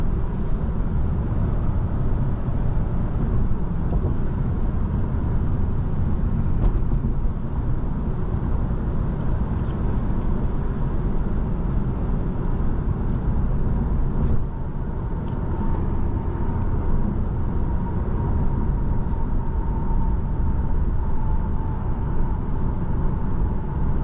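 A 2016 Lexus RC 300 F Sport AWD accelerates at full throttle, its engine and road noise a loud, steady low roar heard from inside the cabin that holds without pause.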